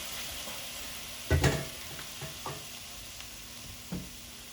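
Shrimp dropped into a hot stir-fry pan with onions, a low steady sizzle broken by a sharp clatter of the pan and a few scattered stirring knocks.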